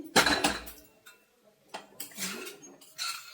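Banana flower curry being served from a pan onto a plate, with metal clinks and scrapes of a spoon against cookware in a few short bursts, close and fairly faint.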